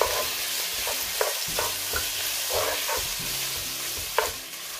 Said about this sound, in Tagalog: Ayan, lalagay na natin yung ating chicken. Ayan. Halu-haluin lang natin.